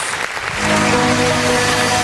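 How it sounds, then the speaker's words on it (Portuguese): A church congregation applauds at the close of a service, a dense wash of clapping that swells after a brief moment and holds steady and loud. "Vamos aplaudir o nome do Senhor"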